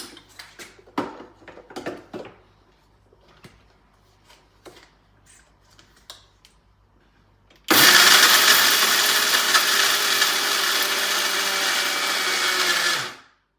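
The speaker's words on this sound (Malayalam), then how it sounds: "മിക്സിയുടെ ജാറിലിട്ടു ഇനി നമുക്കിതൊന്ന് പൊടിച്ചെടുക്കാം" Mixer grinder jar pulverising roasted spices into powder, a loud continuous whirring roar that starts abruptly after several seconds of quiet kitchen clatter and cuts off near the end.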